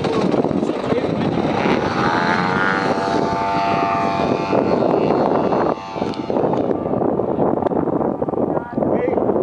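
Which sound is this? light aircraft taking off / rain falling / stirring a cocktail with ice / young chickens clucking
light aircraft taking off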